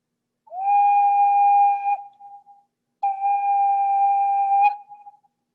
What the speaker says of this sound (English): This particular one is called a stopped pipe.